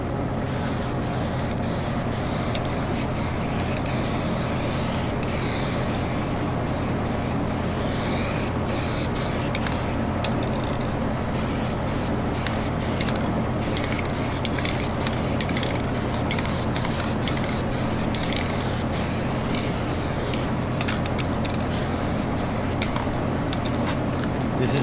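Spray can jetting black paint onto OEM interior trim from a 1988 Honda CRX, a long continuous hiss held near and loud, with brief breaks in the spraying.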